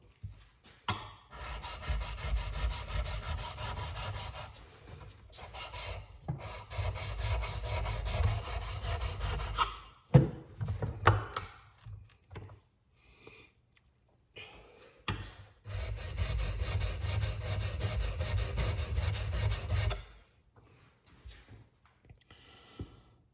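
A wood chisel is rubbed back and forth on a sharpening stone in a garage, with long bursts of close, gritty scraping strokes broken by pauses and a few small knocks.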